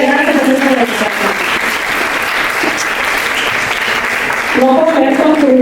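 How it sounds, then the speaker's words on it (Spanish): Applause from a lecture audience, a dense steady patter of many hands close by that swells and holds for several seconds, with a voice speaking over its start and end. "Un aplauso para ella."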